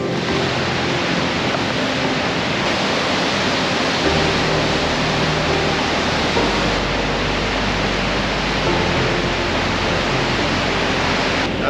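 Goðafoss waterfall in Iceland roaring as a steady, loud, broadband wash of falling water, constant and unbroken with no voices.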